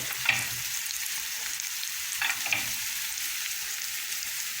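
Tofu curry with garam masala and coriander powder fries in a pan, a steady close sizzle broken by a few brief scrapes of a spoon stirring the spices in.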